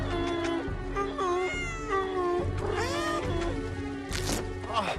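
A cat meows several times in bending, drawn-out cries over a steady low hum, with a sharp higher squeal near the end.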